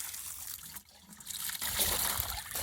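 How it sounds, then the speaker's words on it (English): Water pours into a bucket for mixing fish emulsion fertilizer while planting garlic, a steady close splashing trickle that grows louder and fuller as the bucket fills. "now we're just going to fill the bucket up with water"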